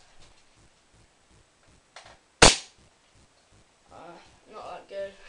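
A CYMA AK47 airsoft gun, wound up, fires one sharp loud crack, followed by faint clicking handling noises.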